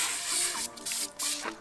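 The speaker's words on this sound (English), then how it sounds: "I don't know if I can spray his license in" A spray can sprays paint onto a Lamborghini in three short, close hissing bursts, with brief pauses between them.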